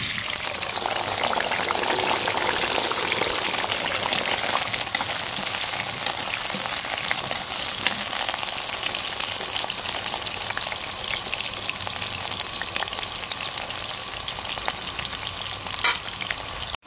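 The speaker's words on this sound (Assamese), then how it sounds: "আলুখিনি অলপ ভাজি ল'ম" Potatoes fry in hot oil in a pan with a loud, continuous dense sizzle and crackle throughout, with occasional stirring scrapes and no talking.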